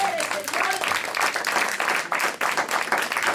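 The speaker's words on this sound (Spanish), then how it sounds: "Pueden darle un aplauso al Señor por eso." A church congregation claps together in a dense, sustained round of applause that fills the room, with a voice briefly audible at the start.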